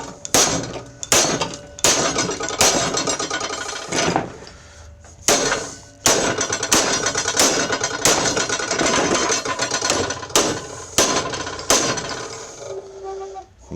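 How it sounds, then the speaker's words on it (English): A small ball peen hammer pounds a bent Poulan riding mower deck back into shape: loud, ringing metallic whacks in irregular bursts, some rapid and some spaced by short pauses, close up with no talking. "Might be able to beat it down now with a hammer."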